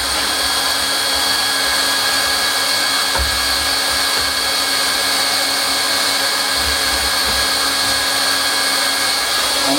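A hot air plastic welder tacks a plastic joint, its blower producing a loud, steady airy hiss and hum up close, continuous throughout with a few faint low knocks from handling.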